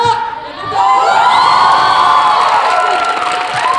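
Loud audience cheering and whooping with many young voices, steady and close, at a school Christmas concert in a hall.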